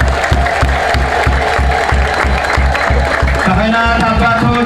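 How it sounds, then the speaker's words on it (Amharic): A crowd at a graduation celebration claps steadily and loudly, with sustained high ululation rising over the applause near the end. "እልልታ ጭብጨባ አንድ ያደርጉላቸው"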